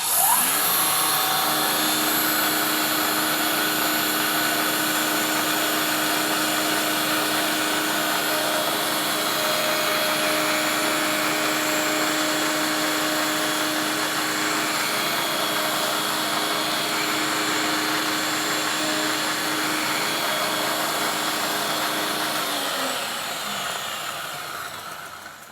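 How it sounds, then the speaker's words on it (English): A cutting machine carves a tuner slot in an archtop guitar headstock, giving a loud, steady high-pitched whine that holds unbroken for about 23 seconds before winding down at the end. "It's all set up to do this slot, so we just turn it on and run it"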